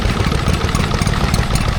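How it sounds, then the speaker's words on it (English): A Stuart Turner P4 two-stroke stationary engine running at an outdoor country show, driving a Jabsco 4900 water cooling pump, gives a loud, steady, close-up chugging drone with a rapid, even rhythm throughout. "Here we see a Stuart Turner 2-stroke engine, P4, Type P4,"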